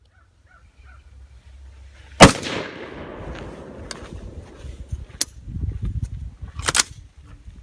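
Gunshots at an outdoor shooting range, heard as a few sharp, loud cracks spaced seconds apart, the first followed by a lingering rumbling echo, with faint background noise and no talk.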